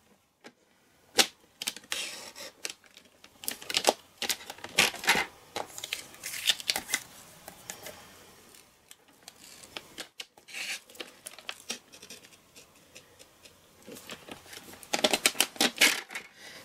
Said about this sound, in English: And then cut between the two cut lines.